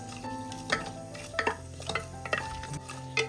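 Bay leaf and fennel seeds frying in oil while being stirred, a soft continuous sizzle broken by sharp spoon taps and scrapes against the pan every half second or so.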